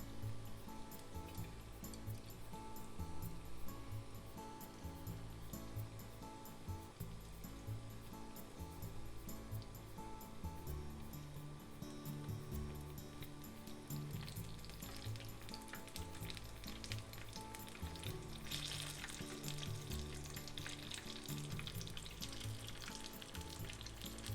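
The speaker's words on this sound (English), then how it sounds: "fry them for 3 to 4 minutes until it's golden brown" Shiitake mushrooms deep-fry in hot oil with a dense, continuous sizzle and crackle that stays close and steady throughout, with no voices.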